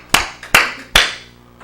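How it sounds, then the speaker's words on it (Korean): Three sharp hand claps ring out close and loud in a quick uneven rhythm, followed by a faint fourth tap as the room echo trails off. "나도 모르게 박수를 치고 있는 거야"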